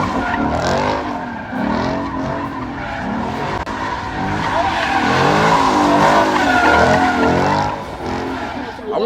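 A car doing a burnout at a Street Predatorz street-car gathering in Myrtle Beach, tires squealing and skidding in long overlapping sweeps over a steady engine roar that swells and falls, loud and close for about nine seconds.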